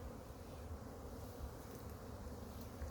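Honeybees swarming around an opened hive during a brood check, a dense continuous buzzing drone, fairly faint but constant throughout.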